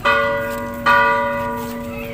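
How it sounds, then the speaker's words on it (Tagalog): Two strong strikes of a church bell about a second apart, each ringing out with a long humming decay, loud and close with no talking, in an afternoon town in the Philippines. "Tumutunog kasi ang kampana kasi ganito talaga pagdating ng hapon dito sa bayan"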